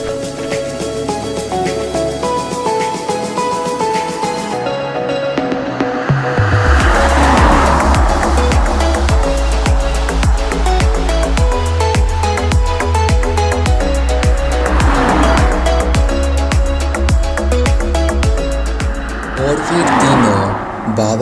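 A car in a cartoon horror story starts up, its engine roars as it drives off, and its tires squeal loudly. The motor rises and falls repeatedly over the scene, with voices and music layered in.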